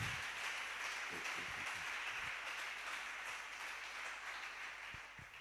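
A church congregation applauding in praise of the Lord, a steady wash of many hands clapping throughout, fairly loud and even, tapering slightly at the end.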